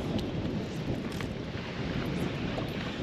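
Steady wind buffets the microphone outdoors on a tidal backwater of the delta, a continuous broadband rush with no voices.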